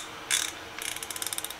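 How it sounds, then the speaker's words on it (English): A Husky 3/8-inch drive ratchet, a used flea-market find that runs a little rough, gives a short burst followed by a quick run of about ten crisp, evenly spaced clicks, close and fairly quiet with no talking. "this is a Husky 3/8 ratchet I picked up."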